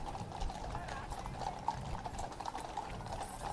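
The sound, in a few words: horse hooves clip-clopping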